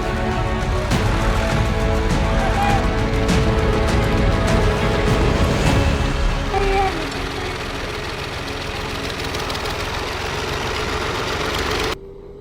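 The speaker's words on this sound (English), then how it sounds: "The sound of the engine grows louder as the massive truck slowly moves forward." A massive heavy truck engine labors as the vehicle crawls forward over swampy ground, a loud, low rumbling roar with knocking texture that eases slightly partway through before cutting off near the end.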